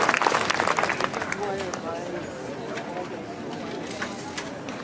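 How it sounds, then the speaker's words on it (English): Audience applause at an outdoor band concert greets the flag raisers: a soft, scattered patter of clapping from a crowd, fading gradually, with voices talking over it. "A nice round of applause for them putting up our flag tonight"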